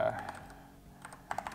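Keys are struck on an Accto B705 retro typewriter-style wireless mechanical keyboard, a few scattered soft clacks followed by a quick cluster of sharper taps near the end, with faint background hum.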